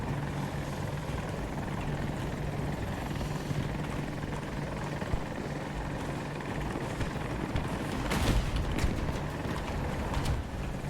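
A helicopter in Battlefield 2042 gives a constant rotor and engine roar with rhythmic chopping, loud and steady, swelling slightly near the end amid game noise.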